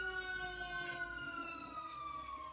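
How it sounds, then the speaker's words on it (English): Wailing emergency sirens sweep past at moderate distance, their pitch slowly falling as they move away, with no talking. "Sirens, hold on."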